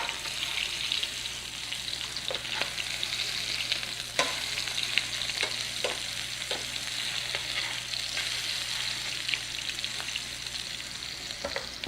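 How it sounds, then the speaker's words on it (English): Meatballs sear and brown in a hot pan for marinara, a continuous crackling sizzle broken by scattered spatters and soft clicks as they are rolled over. "usually you can sear a meatball on at least 2 sides and often 3 sides"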